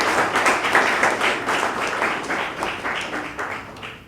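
An audience at a public address applauds steadily, a dense, loud wash of many hands clapping that carries on for several seconds without voices.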